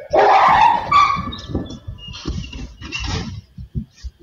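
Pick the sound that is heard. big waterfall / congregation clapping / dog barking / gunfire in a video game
dog barking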